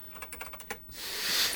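Quick burst of clicky keystrokes on a Radio Shack TRS-80 Model 1 keyboard, about eight crisp taps close up, followed by a rising hiss.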